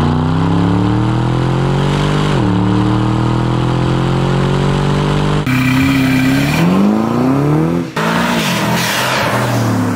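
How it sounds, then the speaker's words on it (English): An Aston Martin DBX engine revs hard in Sport Plus mode, loud and close, with rising and falling pitch sweeps through several throttle blips and gear changes and no talking. "If I'm in GT or any of the terrain modes, the engine is really quiet. In Sport Plus, everything just opens up."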